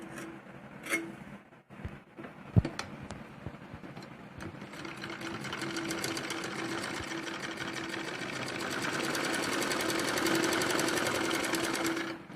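A sewing machine stitches a salwar after a few scattered clicks and knocks, then runs in a rapid continuous whirring chatter that steadily builds and holds loud to the end.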